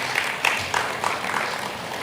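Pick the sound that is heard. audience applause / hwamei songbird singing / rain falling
audience applause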